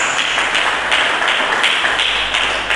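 A church congregation claps together during an Indonesian sermon, a loud, continuous wash of hand claps filling the space without a break.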